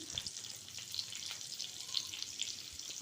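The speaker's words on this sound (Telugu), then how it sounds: "ముందుగా కట్ చేసి పెట్టుకున్న ఆనియన్స్ వేసి బాగా డీప్ ఫ్రై చేసుకోవాలి" Chopped onions deep frying in hot oil for a paneer curry, a steady close hiss and crackle of bubbling oil running through the whole stretch with small pops, no voices.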